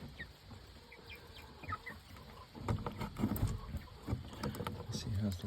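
Pet chickens and a rooster peck at breakfast nearby, making soft scattered clucks and pecking taps that grow busier toward the end, mixed with faint background noise.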